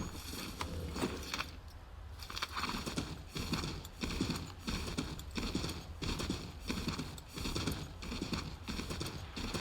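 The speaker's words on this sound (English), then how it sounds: "Oh, there's my horse." Horse hooves clip-clop in a steady rhythm in Assassin's Creed 3, close and prominent throughout, with a brief whinny near the start.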